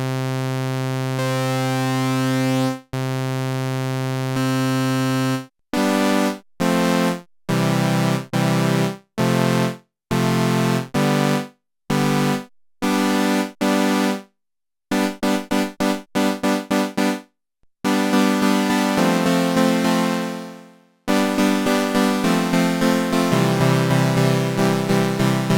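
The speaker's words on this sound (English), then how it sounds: "Shall we have a listen quickly then to the oscillator? See what it sounds like." A synthesizer oscillator tone from an Arturia OB-Xa V or OB-6 sounds alone: a long steady buzzy note, then a run of short gated notes with brief silences, ending in a few longer held tones.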